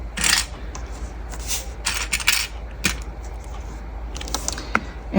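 Small plastic sewing clips clack and click against each other and the table as folded fabric pieces are clipped together, several sharp irregular clicks and light rattles, close and fairly quiet with no talk.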